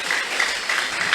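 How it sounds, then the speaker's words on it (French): A church congregation applauding for the Holy Spirit during a French-language service, with steady, dense clapping from a crowd filling the whole moment. "Acclamez pour le Saint-Esprit."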